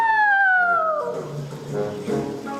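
Children in a 3rd to 8th grade school musical imitate a wolf howl, a long sliding 'ah-woo' sung in unison that falls in pitch, then trails into murmuring voices and stage noise.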